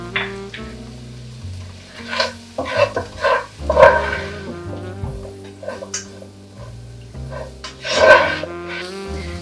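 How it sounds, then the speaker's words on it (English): Vegetables sautéing in oil in a pan for a breakfast fajita casserole give a steady close sizzle, with stirring clatters and scrapes popping up several times over it and no talking. "saute these in the oil for about 5 minutes"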